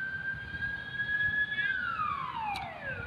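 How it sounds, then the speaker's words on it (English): An ambulance siren passes in the distance, a wailing tone that holds steady and then sweeps downward as the vehicle moves away, over quiet background noise. "We've got an ambulance driving in the background."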